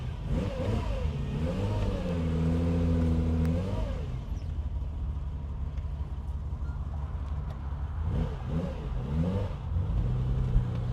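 A 1967 Ferrari 330 GTC pulls away on the road, its V12 revving up through gears in loud rising and falling sweeps, then settling into a steady cruising drone before accelerating again.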